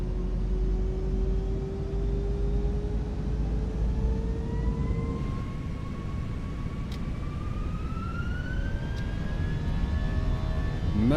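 Airliner taking off in Microsoft Flight Simulator 2024, a steady loud engine roar with a rising whine climbing in pitch as thrust builds, continuous throughout with no talk.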